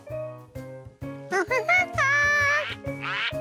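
Cartoon ducks quack in an animated children's show, a few nasal calls rising over bright tonal cartoon sounds, fairly close and clear with no talk.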